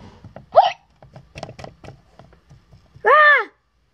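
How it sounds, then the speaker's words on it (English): Two sharp squeaky hiccups, one short and one longer and louder, with soft clicks and faint mouth noises between them, close to the microphone. "hiccups."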